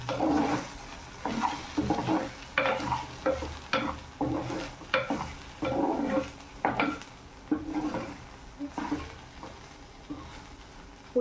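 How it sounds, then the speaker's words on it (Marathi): A spoon repeatedly scrapes and stirs okra bhaji in a pan, about a dozen distinct rhythmic strokes over a soft, steady sizzle, all close by with no talking. "पुन्हा हलवून घेऊया आपण."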